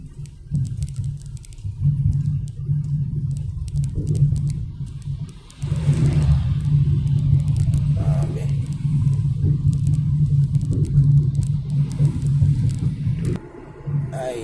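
A jeepney rolls through the early morning with a steady low engine drone and rattling cabin noise. The engine drops briefly midway, then picks up again and runs on.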